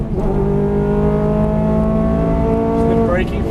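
A Ferrari F430 on a Las Vegas track, its engine roaring loud and close as it climbs steadily through the revs, then briefly dropping at the upshift before pulling again, with an instructor's voice over it.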